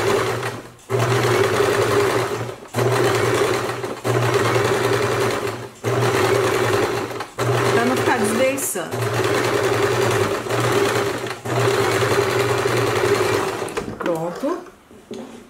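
Sewing machine stitching the seam of a dress lining, running in steady bursts with short pauses between runs, loud and close; a voice speaks briefly near the end.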